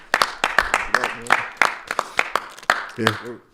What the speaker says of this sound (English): Clap it the fuck up.